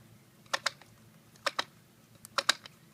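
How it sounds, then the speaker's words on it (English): The one-way ratcheting mechanism of a Ryobi Reel Easy string trimmer head clicks in short paired bursts while the line is wound, three quiet, close clusters over near silence. "It has a one-way ratcheting mechanism."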